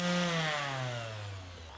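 A Bosch random orbit sander runs steadily at close range, a loud continuous motor whine whose pitch slowly falls as it spins down.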